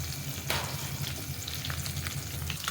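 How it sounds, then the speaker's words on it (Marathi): Tempering sizzles steadily in a pan for chickpea greens bhaji, a dense continuous crackle throughout with a few louder spits, close and alone with no talk. "आता ही फोडणी चांगली शिजू द्या कडकडीत."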